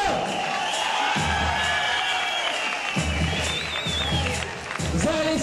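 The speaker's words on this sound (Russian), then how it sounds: "Аплодисменты! Еще громче!" Applause from a crowd at a kickboxing event fills a hall, steady and loud throughout with scattered cheers and whoops, while an announcer's amplified voice rings out over it.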